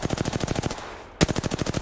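Rapid automatic gunfire in Apex Legends, a loud steady stream of shots that breaks off for a moment and then resumes at the same fast rhythm.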